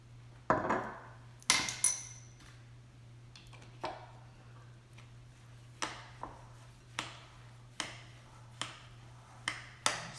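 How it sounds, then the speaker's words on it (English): An apple cider vinegar coleslaw dressing is stirred in a bowl, giving sparse, irregular clinks and taps of a utensil against the bowl, quiet and close, over a steady low hum, with no talking. "Keep stirring that up until it looks right"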